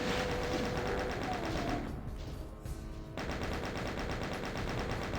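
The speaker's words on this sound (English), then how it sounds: "Chop these guys up with a chain gun." A chain gun in a Doom game fires in loud, relentless rapid bursts, easing briefly mid-stream before the dense hammering resumes.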